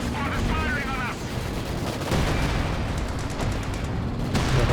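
Machine gun fire in Company of Heroes 2, a steady rattle of gunfire and battle noise running throughout, loud and close, with voices talking over it.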